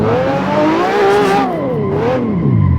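A tuned BMW 520i engine drives in Assetto Corsa, a steady mid-revving drone that rises and falls in pitch across the gears, loud and close, with no talk over it.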